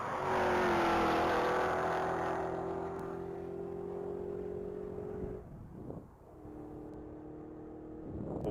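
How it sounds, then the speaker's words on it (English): A 2025 Cadillac CT5-V Blackwing, car 422, roars hard at full throttle on a top-speed mile run, its rising engine note loud and close before a brief gear-change dip and renewed pull, with no voices. "Randy Ray is back on deck, vehicle 422 in that 2025 Cadillac CTSV Blackwing"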